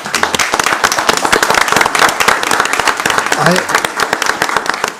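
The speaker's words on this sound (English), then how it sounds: "I'd ask for everyone to give them a great round of applause for their efforts" Dense, loud applause from a city council meeting audience fills the whole stretch, steady and crowded clapping with a brief voice emerging partway through.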